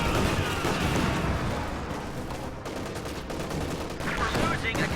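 Dense, continuous gunfire and battle noise from a World War II strategy game match, with bursts of automatic fire blending into a steady loud din and someone talking over it.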